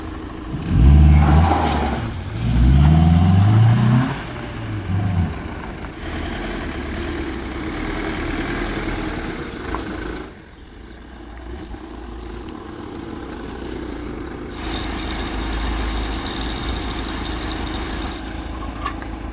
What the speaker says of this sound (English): Finally got the truck started.